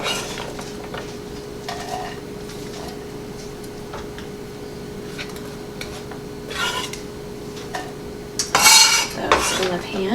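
Chopped celery drops into a pan for sautéing, with scattered clinks and a clattering spoon-on-pan burst near the end over a faint steady hum. No sizzle is audible.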